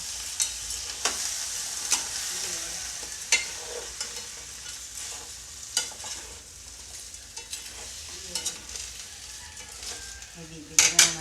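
Garlic fries in a pan for garlic fried rice made from leftover rice, sizzling steadily under intermittent stirring clinks and scrapes, close and without speech, with a louder clatter near the end.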